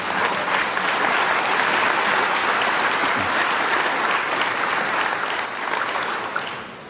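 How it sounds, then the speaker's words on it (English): A crowd at a school district breakfast gathering breaks into loud, sustained applause, many hands clapping densely for several seconds before tapering slightly toward the end. "A big round of applause for all those people."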